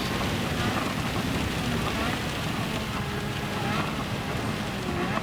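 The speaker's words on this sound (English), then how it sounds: "We've got an open cockpit and it's raining." Rain falls during a race in Gran Turismo 7, heard from an open-cockpit 1965 RA272 as a steady, loud, dense hiss mixed with wind rush and low engine rumble, with no gaps.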